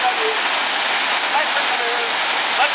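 A waterfall in Turkey, up close: a loud, unbroken roar of rushing water that stays steady for the whole short stretch.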